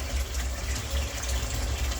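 Dye-laden water draining by itself from a hank of dyed yarn, a steady low trickling and gushing wash of liquid that runs continuously without pause.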